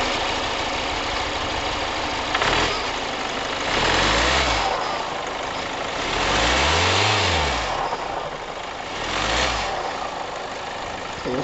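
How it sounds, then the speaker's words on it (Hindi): A Kia Seltos GTX Plus automatic with a 1.5-litre diesel idles close by, a steady clattering rumble lifted by a few brief revs that swell and fade, with no voices. "तो ये रहा इंजन के साउंड के बारे में"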